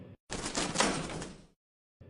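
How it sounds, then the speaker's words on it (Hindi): The door of a parrot cage slides shut in one soft, rasping swoosh lasting about a second, faint and isolated between brief quiet gaps. "पिंजरे का दरवाजा बंद हो जाता है"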